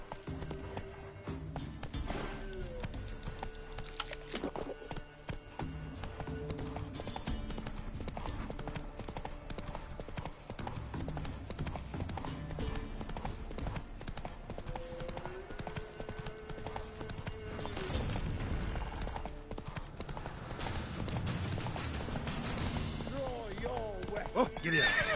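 Horse hooves clip-clop at a steady gallop with a neigh or whinny in The Witcher 3 on PS5, mixed with game music and ambience while someone talks over it.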